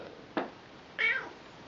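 Indoors, a house cat gives a brief chirp and then one drawn-out meow, both fairly faint and alone.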